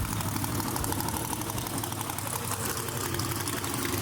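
B/Gas gasser drag racing car at Kil-Kare Dragway in a Southeast Gasser Association event, its engine a steady, dense roar that holds at an even level for the full few seconds with no voices.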